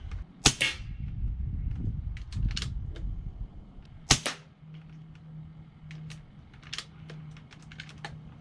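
A .25 airgun fired through a 3D printed LDC suppressor: two sharp, clipped snaps a few seconds apart amid light clicking and handling noises, with a low hum underneath and no talking.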